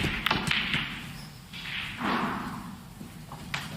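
Snooker balls clicking together at a German Masters match, a few sharp knocks spaced over a few seconds in a quiet arena, with no commentary over them.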